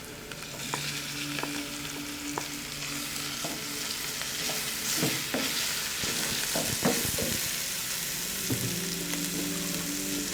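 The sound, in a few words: shredded boiled chicken frying with onions in a pan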